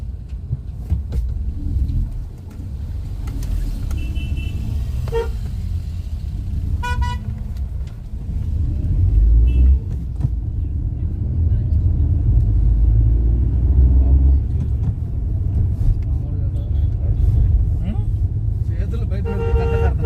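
Stalled traffic queue at Solang Valley: engines idle and rumble close by while several short car horn toots sound intermittently, with people talking over the jam.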